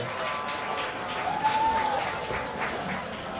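Applause from a music festival crowd, a short stretch of scattered clapping with voices murmuring beneath and a faint tone drifting through.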